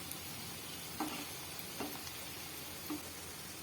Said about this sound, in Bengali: এপিট ওপিট করে আমি সবগুলি ভালোভাবে লাল লাল করে ভেজে নেব।